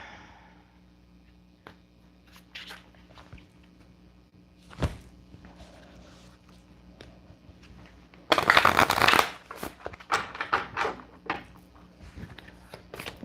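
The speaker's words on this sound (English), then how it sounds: "We're going to shuffle these oracle cards too." Oracle cards are shuffled in a close, crisp riffling burst near the end, with a single thump and light card handling earlier in a quiet room.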